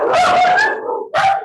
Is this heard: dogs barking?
yes